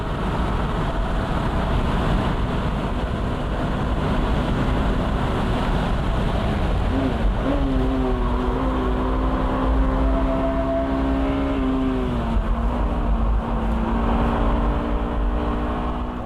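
A Honda Type R runs downhill at full throttle, its engine a loud, sustained close roar that climbs in pitch midway, holds, then eases slightly, under constant wind and road rush with no talk.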